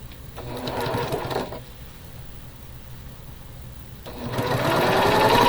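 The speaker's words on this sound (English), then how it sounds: "I'm just going to sew those together." A sewing machine stitches quilt pieces together into a four-patch block, running in two steady bursts of whirring, one near the start and a louder one building toward the end, with a quieter pause in between.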